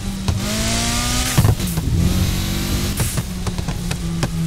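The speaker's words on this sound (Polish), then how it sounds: "czy słychać tę turbosprężarkę po wrzuceniu jej?" Turbocharged car engine in the racing game Need for Speed Heat, revving and shifting with rising whine tones and brief gear-change dips, loud and continuous.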